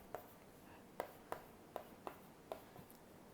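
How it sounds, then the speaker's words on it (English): A stylus pen taps and strokes across an LCD writing tablet, producing six faint, sharp clicks at irregular intervals over a quiet room background. "Okay, so let me write something."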